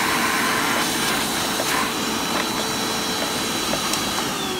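A Japanese 100V 900W vacuum cleaner running: a steady, even whooshing hum with a broad airy hiss that holds constant throughout, moderately loud and uninterrupted, with no talk.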